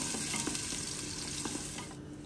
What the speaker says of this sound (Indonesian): ditumis dulu bawang bombaynya sampai harum dan transparan